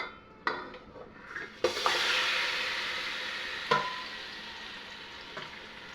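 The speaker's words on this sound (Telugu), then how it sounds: "సో ఇప్పుడు నేను కొంచెం ఆయిల్ అనేది వేడెక్కింది కాబట్టి దీంట్లో నేను ఈ యొక్క ఏదైతే మనం ఉంచుకున్నామో దీని అంతటిని కూడా దీంట్లో వేసేసుకుంటున్నాను." Ingredients go into hot oil in a pan with a clatter, then a loud, steady frying sizzle follows, broken by a few sharp metallic knocks of a utensil against the pan.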